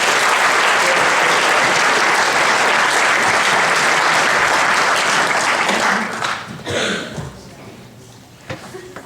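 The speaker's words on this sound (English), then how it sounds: "Please give them a round of applause." An audience at a Kansas high school award recognition breaks into sustained, dense applause for about six seconds, then it thins out and fades to scattered claps.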